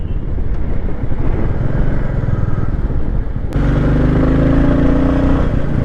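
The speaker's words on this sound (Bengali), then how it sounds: "বাইকটার কি সাউন্ড রে বাবা" A motorcycle engine rumbles close and loud throughout on a winding hill road in Meghalaya, India, its tone shifting as it changes gear partway through and pulls harder.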